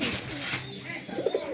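Male racing pigeons resting in a loft coo in a short, soft burst near the end, a low throaty warble over faint background noise, no talking.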